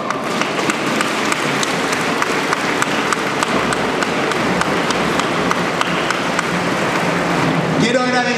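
Applause from an audience at a public event in Atlanta, dense steady clapping that fills the room for several seconds, loud and continuous, with a voice starting up near the end.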